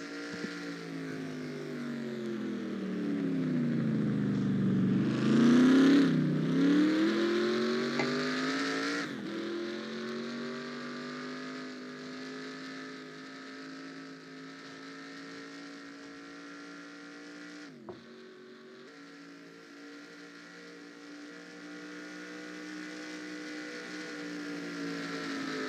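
A race car engine in NR2003 at Nashville drones loudly and steadily through a lap, its pitch dipping and climbing as it slows into a corner and accelerates out, then holding a high sustained whine, with no voices.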